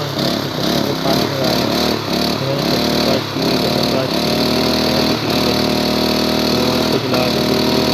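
A gas-powered water pump engine, recently repaired after a leak, runs at a steady loud revving drone throughout while failing to draw water, with voices talking nearby.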